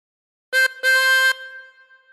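Two harmonica notes blown on hole 4 sound alone: a short reedy note, then a longer held one, with a soft fading ring afterward.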